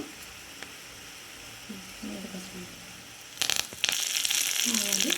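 Chillies and curry leaves hit hot oil while tempering a sorrel (chukka kura) dal made without onions, erupting into a loud, crackling sizzle midway that keeps spitting after a stretch of quieter talk.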